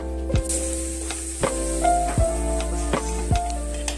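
Ginger and garlic are stirred into sizzling chili, coriander and cumin powders in a pan for chicken curry with banana flower, with a steady close frying hiss broken by repeated sharp spoon knocks against the pan.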